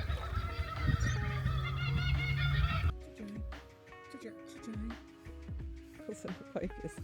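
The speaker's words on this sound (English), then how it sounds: "That's Kookaburra." A kookaburra calls at a campsite on a Sydney-to-Melbourne camper van trip, with loud raucous cackling for about three seconds, then quieter scattered calls mixed with other sounds and voices.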